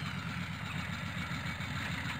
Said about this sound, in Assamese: ইমান জোৰত বাইক কে চলাইছা